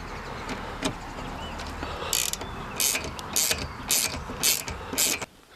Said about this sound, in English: and then we'll tighten the top ones up